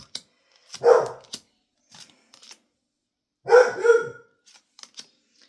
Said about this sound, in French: Plume va aboyer, j'en suis quasiment sûre.